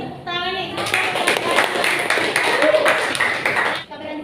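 A classroom of students claps together during a school guidance and counseling lesson, with brisk, fairly loud hand claps mixed with overlapping young voices throughout.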